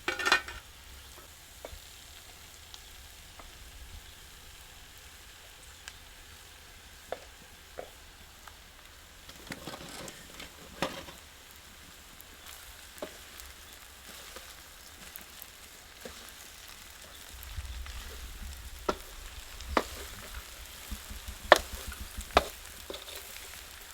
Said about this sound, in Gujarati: હવે નાખી દઈએ ભાત આપણે અંદર.